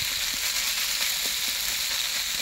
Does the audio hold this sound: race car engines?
no